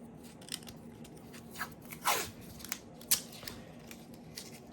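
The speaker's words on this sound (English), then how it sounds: "let's put some tape down" Adhesive tape is pulled and pressed down onto a torn seam of an inflatable PVC pool toy, giving several short, crisp rips and crackles at irregular intervals over a faint steady hum.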